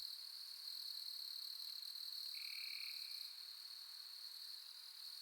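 Crickets chirp in a dense, continuous high-pitched drone, joined briefly by a single brighter trill, with no other sounds.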